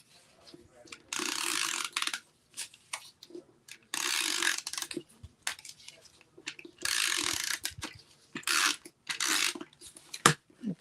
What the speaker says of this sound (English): I am going to put my tape runner on it